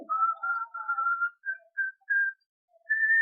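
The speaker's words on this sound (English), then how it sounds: "After a while, I heard him whistle." A man whistles a simple tune outdoors at night, a string of clear sustained notes with short gaps between phrases, fairly close and alone without talk.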